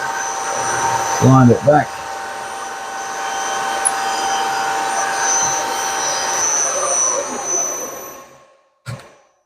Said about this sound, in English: Let's stop the mill.